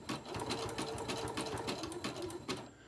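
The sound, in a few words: sewing machine stitching fabric pennant banner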